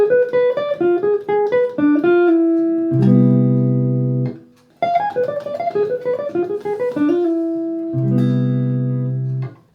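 A guitar plays a diminished scale cell with back cycling: a fast run of plucked notes resolving to a ringing low chord, repeated twice, with no talking.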